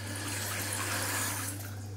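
Tap water running steadily into a sink while rinsing out the mouth after the cinnamon challenge, a constant close splashing rush with a low hum beneath, no talking.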